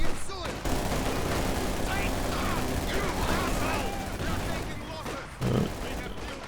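Sustained small-arms and machine-gun fire from shock troops cutting down Volksgrenadiers in the strategy game Company of Heroes 2, continuous crackling bursts with a heavier blast near the end, under a commentator's talk.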